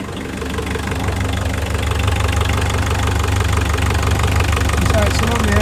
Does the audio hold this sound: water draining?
no